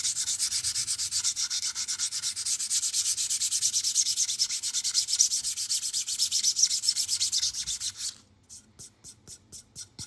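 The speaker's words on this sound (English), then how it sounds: "So you could hear this sawing sound, the scratching." Rapid rhythmic sanding strokes scratch against a PLA plastic 3D-printed sword up close, then slow into a few separate rubbing passes near the end.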